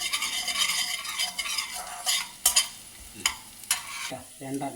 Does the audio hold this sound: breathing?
no